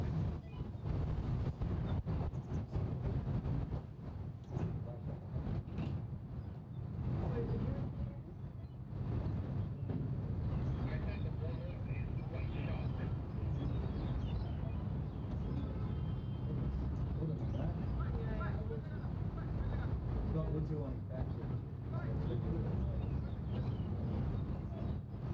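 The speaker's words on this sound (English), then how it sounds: "Getting a little breezy here at KCC." Strong wind buffets the microphone at a cricket ground, a loud, constant rumbling roar that runs unbroken with gusty surges, and faint voices are barely audible beneath it.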